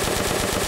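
An STG rifle firing full auto in an Unreal Engine Nazi Zombies game, a dense, loud, continuous burst of rapid shots filling the whole moment with no pauses.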